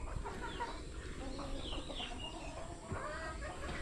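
Chickens clucking before feeding time at a rural property, a busy mix of close, overlapping clucks and calls over a steady outdoor background hiss.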